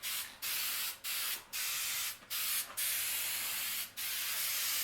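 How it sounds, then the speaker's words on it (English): Close, steady hissing bursts of spray paint misted onto traction bars for a GMC truck, about six passes separated by brief pauses. "So I'm basically going to spray it on there, probably do a couple coats and see what happens."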